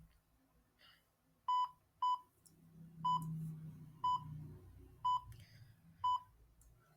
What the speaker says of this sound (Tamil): டைமர் ஸ்டார்ட் பண்ணிடலாம்.